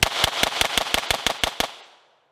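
Rapid string of about ten sharp .22 pistol shots from a USFA Zip 22, loud and evenly spaced, ending with a short fading tail into silence.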